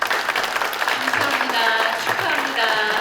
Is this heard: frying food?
no